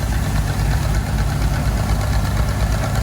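A Volvo EC210B excavator's diesel engine runs steadily at a sand washing site, a loud, continuous low rumble with a faint knocking throb and no breaks.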